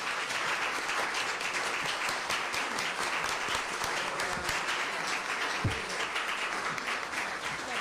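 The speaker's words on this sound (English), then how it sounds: "a round of applause for all of our candidates" Audience applause at a Wilmington City Council and mayoral candidates forum: a steady, dense wash of clapping from a sizable crowd, sustained evenly for several seconds with a low thump near the end.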